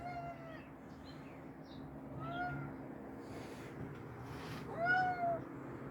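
A house cat meows several times, short rising and falling calls spread across a few seconds over a steady background hum in a workshop, moderately close and not loud.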